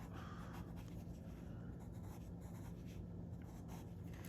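A colored pencil scratches and scrapes steadily across paper at close range, a soft continuous rasp with slight rhythmic strokes.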